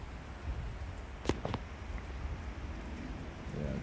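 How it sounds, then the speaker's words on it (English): Steady rain hissing over a surface at moderate volume, with a couple of sharp clanks partway through. "It's raining pretty good."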